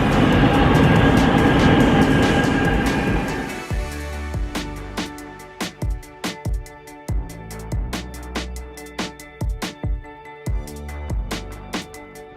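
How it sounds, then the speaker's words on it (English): A train rumbles loudly, then slows, its wheels clacking over rail joints in a rhythmic series of sharp knocks as it pulls in. "Here comes my train."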